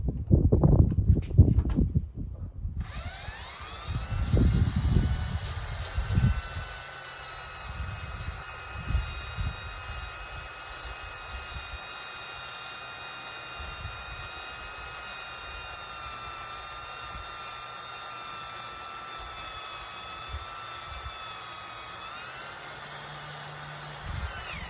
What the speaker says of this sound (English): Now we're just going to hand drill this.